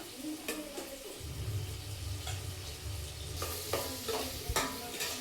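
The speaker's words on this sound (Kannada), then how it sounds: "ಎಲ್ಲ ಹಾಕಿ ಚೆಂದಾಗಿ ಎಣ್ಣೆಯೊಳಗೆ ಫ್ರೈ ಮಾಡ್ಕೋಬೇಕು." Chopped tomato and coriander frying in hot oil in a pan for a mutton dish, a constant sizzle broken by a few brisk stirring scrapes and utensil taps near the end.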